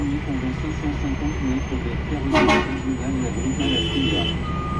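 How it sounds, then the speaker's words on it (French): A car horn honks a couple of short blasts at police amid idling traffic noise in Venezuela, while someone talks nearby. "Je klaxonne des flics."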